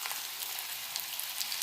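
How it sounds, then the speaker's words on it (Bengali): Onions fry in hot mustard oil with a soft, even crackling sizzle, faint but steady and close, with tiny pops scattered through it. "আমি পেঁয়াজটা দিয়ে দিচ্ছি।"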